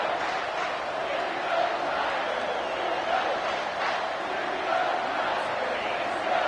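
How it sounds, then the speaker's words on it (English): A stadium crowd roars at a football game as a broad, sustained wall of cheering that swells slightly in places, loud and continuous, with no pause. "The roar of the crowd trying to fuel this defense to keep them pinned in their own end."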